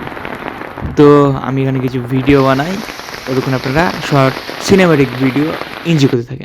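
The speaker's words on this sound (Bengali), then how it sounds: "আর বৃষ্টি, আপনারা শব্দ শুনে বুঝতেই পাচ্ছেন।" Heavy rain falls outside a house on a wet day, a steady broadband hiss running continuously beneath someone talking close to the microphone.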